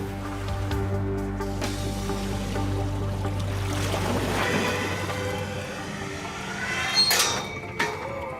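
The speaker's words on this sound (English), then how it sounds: "They hope the inrush of water to the empty box will drive the vortex effect." Water rushing into an empty weighted box as it sinks, a turbulent, surging wash with humming machinery tones in the first half, then splashing and bubbling swells nearby.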